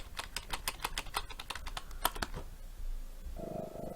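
A clicky computer keyboard typed on in quick irregular bursts of sharp, close clacks for a couple of seconds, then going quiet before a soft low hum comes in at the end.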